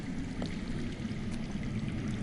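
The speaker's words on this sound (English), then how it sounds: "I hear water. From underground." Underground water flowing somewhere beneath a cave area in a Game of Thrones adventure game, a faint, steady trickling rush with no breaks and no talking.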